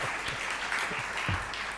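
Audience applause, a steady wash of clapping from many hands throughout, fairly even in loudness with no voices on top.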